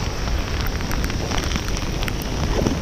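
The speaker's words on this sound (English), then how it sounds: "The torrential downpour, guys." Torrential tropical-storm downpour while bass fishing, a steady loud hiss of heavy rain hammering the surface with no letup and no speech.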